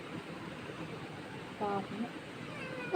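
A cat gives a couple of short, faint meows in the second half, quiet against a soft background hum.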